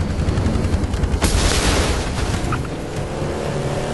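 A detachable mounted gun firing in the Halo 3 video game, a dense roar of rapid shots and booms that swells loudly near the middle and then eases slightly, with no speech.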